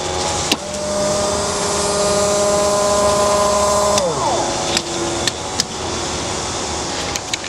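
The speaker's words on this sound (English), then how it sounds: "and then you're gonna hear now the bilge pump." Electric bilge pump on a rewired jon boat whirs with a steady motor hum for about four seconds, then winds down in pitch and stops, followed by a few sharp clicks of switches.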